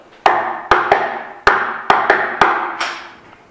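A rhythmic knock code rapped by hand on a surface to open a microphone-triggered electronic lock: eight sharp, close knocks in an uneven pattern over a few seconds, alone with no talk.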